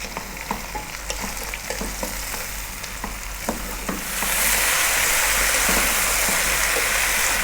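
Chopped garlic fries over medium heat with scattered crackles and ticks from stirring, then the sizzle suddenly swells into a loud, steady hiss for the rest.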